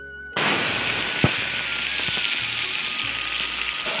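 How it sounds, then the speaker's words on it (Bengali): Tomato fries in hot oil with panch phoron, bursting into a loud, close, continuous sizzle after a brief quiet start, with a few sharp pops and crackles. "5 ফোড়নের মধ্যে আমি টমাটোটাকে একটুখানি ভাজা ভাজা করে নিচ্ছি"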